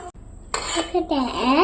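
A spoon stirs a thickening mango ice cream mixture of milk in a pot, giving close scraping and clinking strokes, with short metallic sounds and a brief voice in the background.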